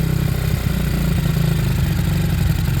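Steady, loud idle of a Sinnis Harrier motorcycle engine running on a newly fitted Hanway carburettor, a close, rough, even chugging pulse with slight clatter, holding constant throughout.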